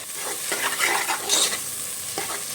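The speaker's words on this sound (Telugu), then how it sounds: "పసుపు పచ్చివాసన పోయేంత వరకు ఇలా కలిపేసుకుందాం" Onions sautéing with ginger and turmeric sizzle steadily in a pan as a spoon stirs and scrapes in several quick strokes, close and fairly loud, with no talking.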